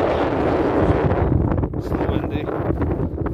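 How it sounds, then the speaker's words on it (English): Strong wind buffets the microphone outdoors during a metal detecting outing, a loud, continuous low rumble with gusty fluctuations filling the whole stretch. "Windy."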